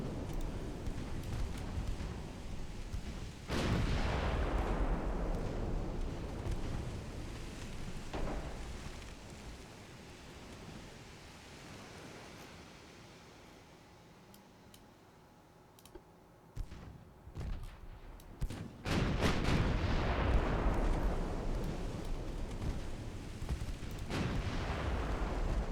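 Heavy naval guns of a 1910s British battleship boom in a video game sea battle, with loud rumbling blasts followed by long rolling decay, then a second barrage erupting later.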